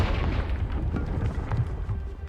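A Confringo blasting spell goes off in Hogwarts Legacy as a heavy, rumbling explosion near a gatehouse, with a low booming burst that lasts the whole brief moment.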